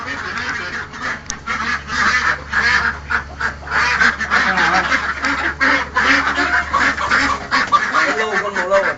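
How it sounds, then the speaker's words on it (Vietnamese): Ducks quack loudly and frantically in a rapid, overlapping chorus while being caught, close by and continuous, with a few honk-like calls mixed in. "Hai thằng vào bắt vịt, bắt trộm vịt."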